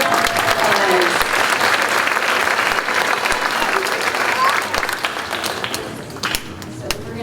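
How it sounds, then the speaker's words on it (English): An audience at a school honors chorus concert applauds loudly with dense, steady clapping that gradually thins and fades toward the end. "Give it a round of applause."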